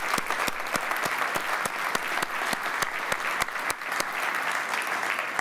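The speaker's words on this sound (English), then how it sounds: "Can we give him a big round of applause?" A crowd at a tech conference talk claps steadily and loudly for several seconds, with sharp individual claps standing out over dense applause.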